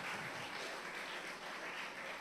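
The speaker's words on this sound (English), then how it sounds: "another big round of applause for Akeem Chandler Prescott" Sustained audience applause at a cultural forum event following a spoken-word performance, a dense, steady wash of many hands clapping at moderate distance throughout, with no talking over it.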